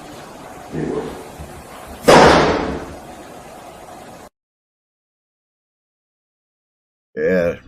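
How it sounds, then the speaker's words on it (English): A hard door slam in a house rings out, played back from a video recording, as one sharp loud bang over a steady hiss, after an earlier softer thump, followed by silence and a brief voice. "you definitely can hear the door slamming"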